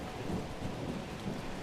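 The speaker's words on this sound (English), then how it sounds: "as the first rumbles of thunder echoed, he pressed on" Thunder rumbles low and continuous in a mountain storm, with a steady rain hiss over it and no talk.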